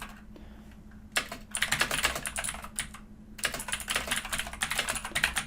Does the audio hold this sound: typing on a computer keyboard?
yes